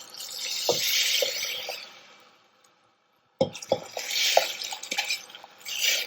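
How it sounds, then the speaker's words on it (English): Soaked green gram and water are poured into a cooking pot: a rushing, splashing pour, a brief silent gap, then a second pour with light drips and clinks, close and fairly loud. "We're adding our green gram and water."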